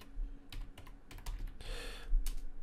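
Close, quiet typing on a computer keyboard comes in irregular bursts of clicks, with a quick run of keystrokes in the middle.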